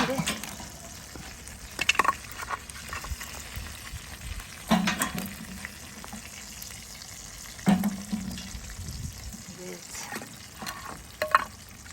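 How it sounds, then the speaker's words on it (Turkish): Fish sizzling and crackling in hot oil, a steady frying hiss with occasional sharper pops and clatters of utensils nearby. "Balığımız kızardı."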